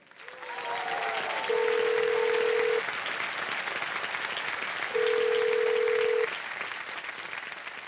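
Two long steady electronic telephone dialing tones, like dial or ringback beeps, sound over a loud cheering crowd in a TV quiz show studio.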